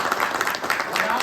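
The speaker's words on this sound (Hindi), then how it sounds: "एक बार जोरदार तालियां।" An audience at a street play performance during the Bharat Rang Mahotsav festival claps in a dense, steady burst of applause for just over a second, with a voice speaking over it.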